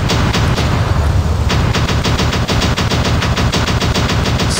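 In the mobile game War Robots, robot weapons fire at Titans in a loud, relentless stream of rapid automatic shots, a dense close-up barrage that never lets up and carries no talking.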